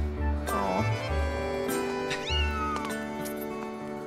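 In The Legend of Zelda: Skyward Sword, a cat gives several close, distinct meows against a continuous bed of game music, with no one talking.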